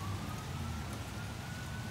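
Steady rain falling outdoors on a stormy day, a continuous soft hiss that stays even throughout with a faint low hum underneath and no voices.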